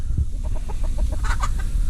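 Chickens cluck steadily and close by while being fed figs, a run of short evenly spaced clucks rising into a louder burst of higher calls.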